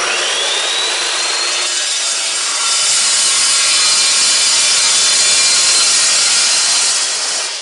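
A power saw cuts through metal on a coffin cage build, a loud, continuous grinding whine that holds steady for about eight seconds and swells slightly partway through, with no talking.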